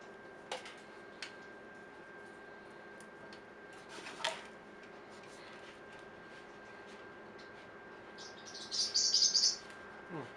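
A pet bird, heard during outdoor bonsai trimming, gives a few faint scattered chirps, then a brighter burst of tweeting near the end over quiet background hiss, with no talking.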